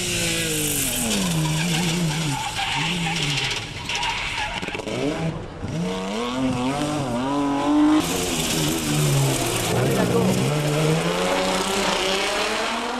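A Ford Sierra Group F rally car races hard. Its engine revs rise and fall repeatedly, with tire squeal and skidding over a steady loud roar.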